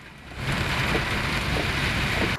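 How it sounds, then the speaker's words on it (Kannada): Heavy rain pours over Jayanagar in Bangalore as a dense, steady hiss that swells slightly after the first half second and then holds loud and even. "ಜಯನಗರ ಸೇರಿದಂತೆ ಹಲವು ಕಡೆ ಮಳೆಯ ಆರ್ಭಟ ಜೋರಾಗಿದೆ"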